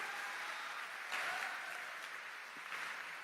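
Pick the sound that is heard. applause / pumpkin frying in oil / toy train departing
applause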